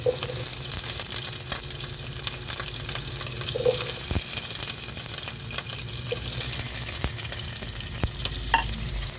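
Meat browns in a hot pan under a steady, bright sizzle, with occasional stirring scrapes and clinks, close up and without speech.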